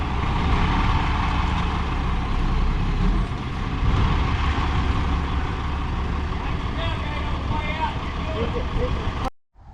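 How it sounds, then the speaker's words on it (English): Heavy dirt trucks rumble away from a roadway build site on rural property, a loud, continuous engine drone that fades out sharply at the very end. "All right, the dirt trucks just left"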